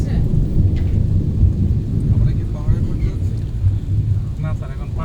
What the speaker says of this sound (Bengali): বৃষ্টি কখন থামবে?